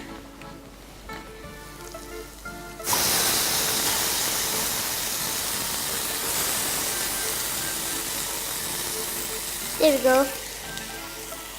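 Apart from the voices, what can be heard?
tomato puree sizzling in hot saucepan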